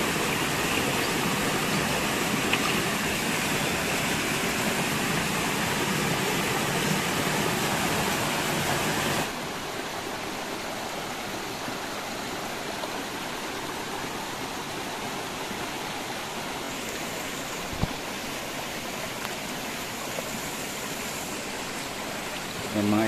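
A clear river stream flows steadily with broadband rushing water, loud for the first nine seconds and then a little softer and more distant, carrying on alone without talk.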